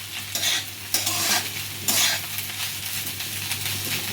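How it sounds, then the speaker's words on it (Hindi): Poha is stirred and roasted in a pan over a medium flame, a soft continuous sizzle with repeated scraping strokes of a spoon, close and alone over a low steady hum. "बीच बीच में चलाते हुए इसे भून लीजिए।"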